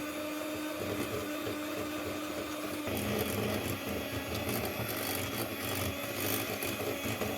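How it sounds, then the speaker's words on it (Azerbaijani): Electric mixer beating 60 grams of butter with 25 grams of powdered sugar for cake cream, a steady close whirring drone that grows louder and rougher partway through as the beaters work. "Kremi üçün bizə 60 qram kərə yağını, üstünə 25 qram pudra şəkər əlavə edib yaxşıca çalırıq."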